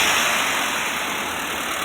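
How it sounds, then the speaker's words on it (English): A 2012 Honda Fit's engine runs steadily at idle during AC repair work, a constant close hum with a steady high whine from the compressor and belt, with no talk. "we're gonna start the engine and regas it."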